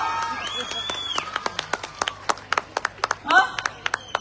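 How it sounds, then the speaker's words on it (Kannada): An audience at an Ambedkar Jayanti celebration claps for Ramabai, scattered individual claps building into a loose patter, with a speaker's voice over the start. "ರಮಾಬಾಯಿ ಅವರಿಗೆ ಚಪ್ಪಾಳೆ"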